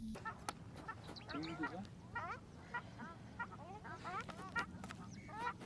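Several honking, nasal ruddy shelduck calls repeat in bursts over steady outdoor background murmur, fairly close and clear.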